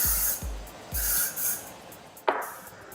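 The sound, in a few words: hairspray being sprayed on hair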